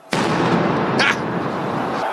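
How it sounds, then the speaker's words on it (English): Explosions during street protests on the Champs-Élysées in Paris: a loud, sustained roaring blast begins abruptly and fills the whole span, with a second sharper burst near the middle, dense and close. "Protesters filling the most famous street in France, the iconic Champs-Élysées, with fire and explosions."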